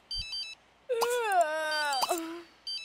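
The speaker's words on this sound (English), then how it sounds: "Her phone's ringing." A phone rings in The Sims 3, a bright electronic ringtone of short repeating beeps that pauses while a wailing, sliding synthetic tone swells up and fades, then returns at the end.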